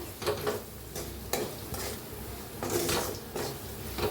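A spiced mixture with turmeric and red chili powder is stirred in a pan, with soft scraping strokes and light sizzling in an irregular rhythm, close and fairly quiet.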